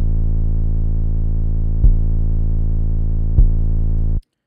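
A clean trap 808 bass from FL Studio, with no distortion, plays as a deep sustained tone. It is retriggered twice with soft thumps, then cuts off abruptly, loud and alone.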